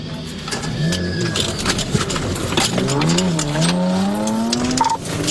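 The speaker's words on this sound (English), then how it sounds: "Driving dangerously fast and recklessly through parts of Marion County, and now deputies in hot pursuit" A car speeds recklessly through Marion County with deputies in pursuit, its engine revving and rising in pitch as tires squeal, loud and continuous throughout.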